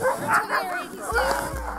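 A dog yips and whines excitedly, close by, mixed with overlapping voices talking.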